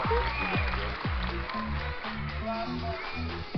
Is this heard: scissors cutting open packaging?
no